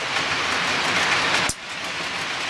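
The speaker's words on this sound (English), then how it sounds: "There she arrives, just coming across the bridge now." A steady rumbling roar of a train rolling across a bridge, with a sharp clank midway and rhythmic clatter continuing.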